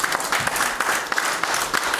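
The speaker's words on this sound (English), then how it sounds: "Give the Lord a hand clap this morning." A church congregation claps during a morning service, a lively mass of hand claps with a slightly uneven, pulsing rhythm, fairly close and full, with no talking over it.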